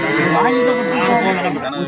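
Cattle moo at a livestock disease-prevention veterinary camp in a village, one long, loud, wavering call held close by for the whole moment, with a faint voice underneath.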